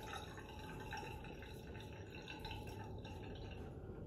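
Lukewarm water from a tap running into a bathroom sink during a shave, a quiet, steady trickle and splash heard close by without talk.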